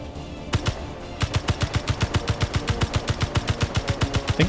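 An interior turret in the game Space Engineers fires a rapid, evenly spaced burst of loud gunshots, close and continuous over a steady mechanical hum, with a single shot just before the stream begins.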